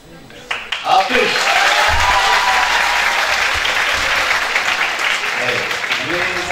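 Audience applause at a municipal flower training seminar in Haymana, starting with a few claps and then swelling into steady, fairly loud clapping from a crowd indoors, with faint talk underneath.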